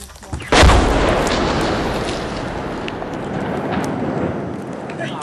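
A bombing explosion in Lebanon erupts with one sudden loud blast, then a long roaring, rumbling wash of noise that stays strong to the end.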